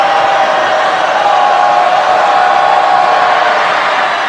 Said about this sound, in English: Listen to the home crowd, Wildcat fans.